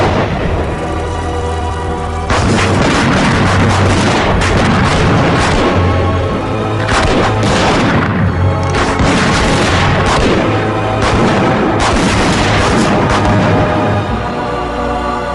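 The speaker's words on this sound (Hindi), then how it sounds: "उड़ा दो, सबको उड़ा दो।" Heavy booms and artillery-like blasts from a Hindi-dubbed Hollywood action movie roll almost without pause, loud and dense, with deep rumbling impacts piling on one another for the whole stretch.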